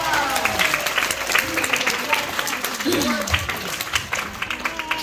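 An audience breaks into loud applause at a science show featuring Van de Graaff generator experiments, clapping sustained for several seconds with voices mixed in.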